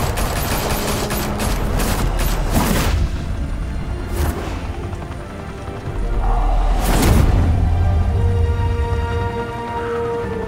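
Heavy gunfire in Batman: The Telltale Series, dense bursts of shots and booming impacts layered over rumbling background noise, loud and close, with a couple of sharp cracks standing out.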